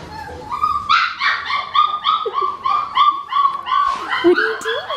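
A four-week-old Australian Shepherd puppy whimpers and yips in a quick, repeated series of high, whiny cries, close up, with brief barks mixed in and no other voices.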